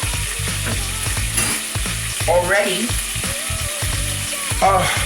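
Half a cup of green seasoning frying in hot oil, with a steady close sizzle and crackle broken by occasional stirring scrapes, no talk.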